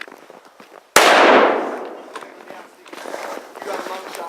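A single loud, sharp rifle gunshot cracks outdoors during an elk hunt and echoes away, with movement and faint rustling before and after.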